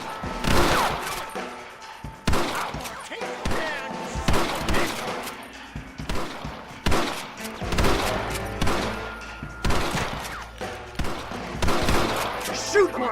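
Gunfire from the video game Red Dead Redemption: repeated loud bursts of shots and volleys crackling across the whole stretch, close and intense, with shouting voices mixed in between the blasts.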